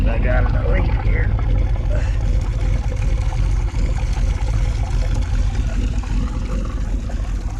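A Bertram boat engine under restoration, running a little rich with carburetors needing adjustment, rumbles steadily and loudly throughout with a dense low drone and water noise, while a voice talks over it.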